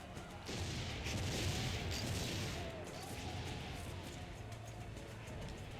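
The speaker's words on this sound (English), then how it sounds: "Look at the cannons." Cannons firing in Assassin's Creed Brotherhood, a few deep booming blasts and crashes near the start, followed by a rumbling, noisy battle ambience that fades somewhat.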